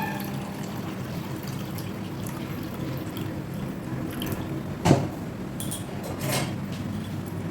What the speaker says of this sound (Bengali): ট্রান্সপারেন্ট সাদা জল হয়ে গেছে এবার এটাকে আমি আর ধোবো না ছেঁকে নিচ্ছি